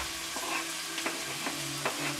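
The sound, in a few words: carrots and shiitake mushrooms frying with ginger and onion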